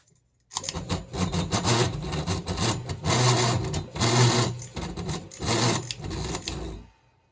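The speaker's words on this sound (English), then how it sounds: "Don't worry about that noise. All that is bad vibration, which we're going to look at." A NuTone Verandah Deluxe ceiling fan with a bad vibration runs with a loud, continuous rattling and rubbing drone, pulsing unevenly for several seconds before stopping abruptly.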